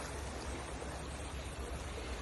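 A river in the Philippines flows with a continuous broadband rush of water, steady and fairly faint, with no voices over it.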